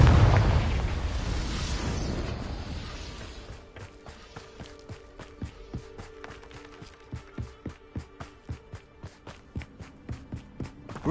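A Confringo fire spell explodes in Hogwarts Legacy with a loud, deep burst that fades over about three seconds. A steady run of light, rhythmic footsteps and game ambience follows.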